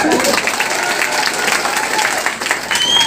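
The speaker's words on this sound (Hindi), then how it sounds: "ताली मारिए भाई।" Audience applause at a political campaign rally in Barak Valley, Assam: steady, dense clapping from a crowd, loud and continuous throughout with a faint murmur of voices mixed in.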